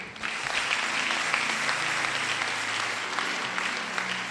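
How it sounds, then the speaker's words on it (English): A church congregation claps steadily and densely throughout a Sunday service, sustained applause with no talking over it. "Clap for Jesus."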